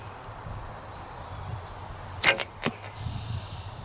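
An arrow leaves a homemade recurve bow with no string silencers and Velcro against string slap, giving a quick, fairly quiet twang and whoosh followed by a faint second knock in an otherwise calm outdoor setting.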